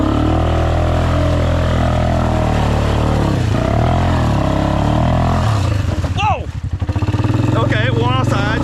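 Four-wheeler ATV engine running loud and steady while riding, with a strained rising and falling whine toward the end as the machine slides; excited voices are heard over it.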